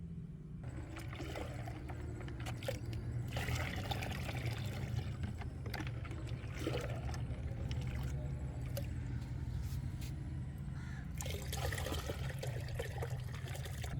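Liquid poured from buckets into a clean container, heard as a continuous splashing trickle with a few louder gushes, close by, under a low steady hum, with no voices.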